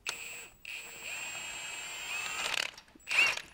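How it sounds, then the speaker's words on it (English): A ratchet on an extension with a wobble joint works a top brake caliper bolt loose on a Jeep front axle, a close metallic whir and clicking with a tonal whine and short pauses. "try and get that top caliper bolt out with an extension and a wobbly."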